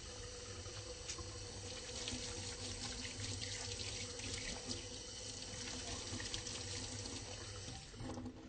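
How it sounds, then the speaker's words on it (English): Tap water runs steadily into a sink as hands are washed before a head-to-toe physical exam, a continuous close splashing hiss with no talking. "so I'm going to go ahead and wash my hands"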